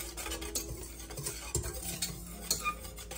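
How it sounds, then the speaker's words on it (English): Chocolate pie filling ingredients, including cornstarch, whisked together in a bowl, with quick rhythmic scraping taps and clinks close by for a few seconds, no voices. "Get all of that whisked together"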